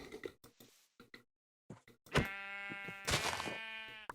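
Sheep bleating in the Minecraft 1.18 video game: two loud, nasal, harmonic bleats, one just after two seconds and another near three seconds, following short clicks and blips of game sounds.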